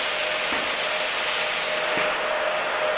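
Plasma cutter's cooling fan blowing air through the torch tip in a trailer fender repair shop, a steady close broadband hiss and whir that holds unchanged for the whole span.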